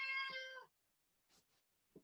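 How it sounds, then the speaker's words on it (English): A house cat gives one loud, close meow indoors, followed by a pause and a few faint, soft sounds. "That's my cat."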